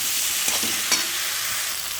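Tomato fries in a pan with spices for a prawn curry, giving a steady hissing sizzle with a couple of soft stirring scrapes and no talk.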